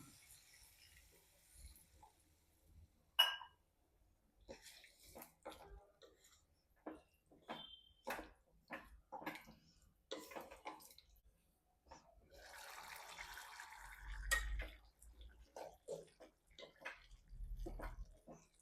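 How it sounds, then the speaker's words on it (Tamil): Water splashes and trickles in short bursts as it is poured into a cooking pot of chickpeas for channa masala, with clinks and handling noises, fairly quiet and close, no talking. "தேவையான அளவு தண்ணி சேர்த்துடலாம்"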